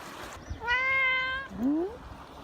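A young female cat, found as a kitten on a riverbank, lets out a drawn-out, clear meow followed by a shorter rising second meow, close and loud over faint outdoor background.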